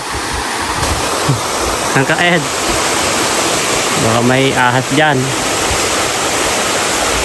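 A mountain stream rushing over rocks makes a loud, steady roar of flowing water throughout, while people talk briefly over it.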